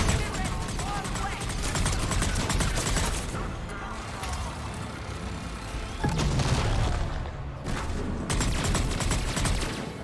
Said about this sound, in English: Taking pot shots at the mech